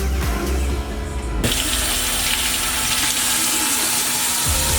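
Tap water runs loudly into a kitchen sink for washing hands while cooking, a constant close gushing stream that shifts slightly in tone partway through.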